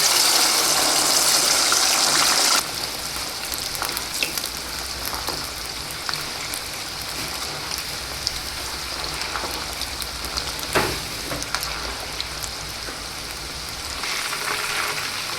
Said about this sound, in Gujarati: તો ગુવાર અને બટેટાને આપણે તેમાં તળી લેશું.